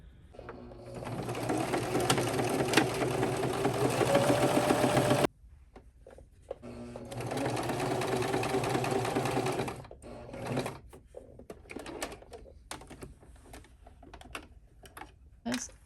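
Sewing machine stitching in the ditch to quilt a wadded lining, two bursts of fast steady stitching separated by a short pause, followed by scattered handling clicks and rustles.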